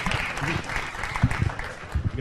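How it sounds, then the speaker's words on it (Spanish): Audience applause at a Chilean tech evening event, dense clapping from a crowd lasting a couple of seconds with some voices mixed in. "Un aplauso."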